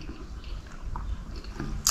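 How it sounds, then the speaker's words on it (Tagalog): Food is being chewed close to the mic, with soft wet squishing bites and mouth noises in an irregular rhythm, ending on a brief sharper crunch. "Tapos nguya."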